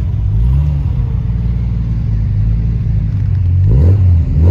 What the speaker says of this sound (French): je vais vous démarrer cette beauté qui fait un bruit magnifique